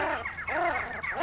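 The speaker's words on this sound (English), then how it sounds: "These little ducks back there" Small ducks call from a little pond in Utah, a few rapid nasal honking quacks overlapping in quick succession, close and clear.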